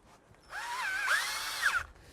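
A power drill drives screws into the number 3 bow of a Bestop Supertop NX soft top on a Jeep Wrangler. One close, rising and falling motor whine lasts about a second and a half.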